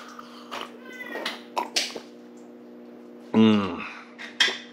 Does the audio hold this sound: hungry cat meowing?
yes